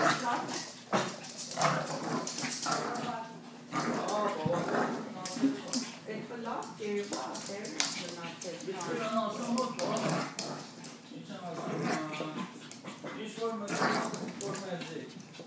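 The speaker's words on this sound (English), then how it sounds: "I'm trying to record a dog fight here." Dogs fighting outdoors, a brown dog among them, with snarling, growling, yelps and scuffling in bursts throughout, fairly close, under frequent excited talking from onlookers.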